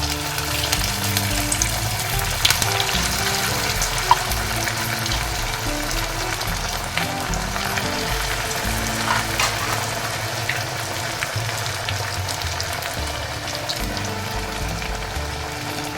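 Sabudana vada sizzling in hot oil, a steady dense crackle and bubbling that runs evenly throughout with a few sharper pops, close and alone without any talk.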